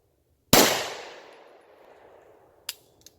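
A Bond Arms Bullpup pistol fires a single loud, close shot of silver tip ammunition on an outdoor range. The crack is followed by a long decaying echo and a couple of faint metallic clinks.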